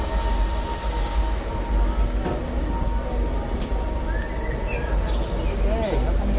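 Steady low rumble of the Disneyland Railroad train running, continuous rolling noise with faint bird chirps and occasional distant voices.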